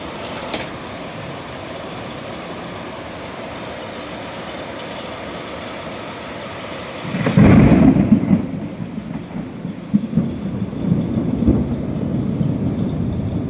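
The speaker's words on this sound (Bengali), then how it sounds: "রোদের মধ্যেই বৃষ্টি কি জোর বৃষ্টি হচ্ছে" Heavy rain falls during sunshine with a steady hiss, then a loud rumble of thunder breaks in midway and rolls on beneath the downpour.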